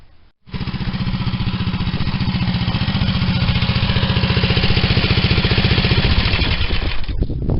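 A small engine idling steadily and smoothly after a tune-up, a loud, close, even pulsing chug that holds for several seconds without revving, alone with no talk.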